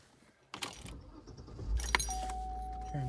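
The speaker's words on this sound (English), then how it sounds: "Turn the car on." Keys jingle close by before a 2003 Cadillac CTS engine cranks and catches, settling into a steady low idle with a faint electronic tone over it.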